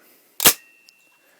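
A Mossberg M590 airsoft shotgun fires once, a single sharp, close crack that fades quickly in an otherwise quiet room.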